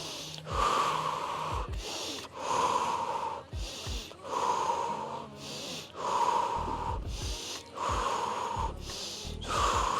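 Forceful mouth exhalations repeat during a home Pilates workout, each breath pushed out as the body pulses upward, coming in several loud, rhythmic bursts with short pauses between them and no talking.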